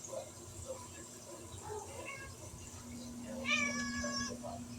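A cat lets out a single clear meow over wet cat food, fairly quiet against a steady low hum in an indoor room.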